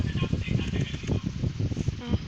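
Rapid, repeated fluttering beats of bird wings, fairly close, running steadily throughout over a busy Minecraft game soundscape.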